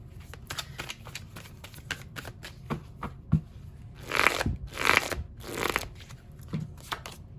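Tarot cards being shuffled by hand during a reading, with rapid papery riffles and taps building to a few louder, bursting shuffles, close and crisp with no talk.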